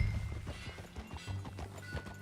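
Horse hooves clop in a quick, irregular rhythm in Red Dead Redemption 2, footfalls thudding close by with a steady background rumble.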